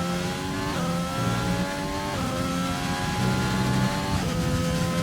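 Race cars lapping Silverstone in qualifying, several engines revving loudly and shifting up and down through gears in a continuous overlapping drone, close and unbroken.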